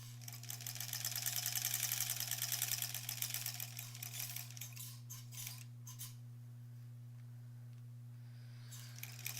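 Sewing machine stitching a quilt block seam, its rapid buzzing needle strokes close and steady for several seconds, then slowing and stopping, over a constant low mains hum.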